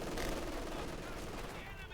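Rifle fire against an MG42 machine gun in the World War II strategy game Company of Heroes 2, a dense stretch of rattling gunfire and battle noise that stays loud throughout.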